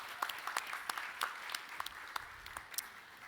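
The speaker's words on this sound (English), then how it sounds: "Another round of applause." Applause from the audience at a startup pitch competition, a steady spread of clapping with individual sharp claps standing out, moderately distant and without speech over it.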